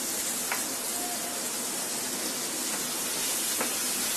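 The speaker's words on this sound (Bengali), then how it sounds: "এখন আরো 2-3 মিনিট একটু এই টমেটো সস আর সয়া সসের মধ্যে আলুটাকে ভেজে নেব।" Potatoes frying in a pan with tomato sauce and soy sauce, a steady soft sizzle with a few faint clicks of stirring and no talking.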